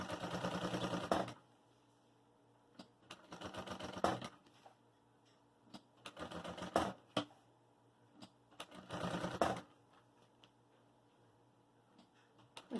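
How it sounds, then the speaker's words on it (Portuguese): A sewing machine stitches piping around a Cool Bag thermal bag, going slowly over the strap. Four loud bursts of fast mechanical whirring are separated by quiet pauses with faint clicks and taps. "porque eu tô costurando em cima da alça."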